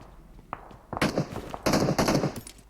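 Rapid automatic gunfire in PUBG Mobile bursts out after a couple of faint early shots, two loud close strings of shots within about two seconds.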